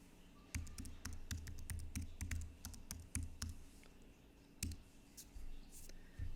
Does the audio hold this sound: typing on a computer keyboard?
yes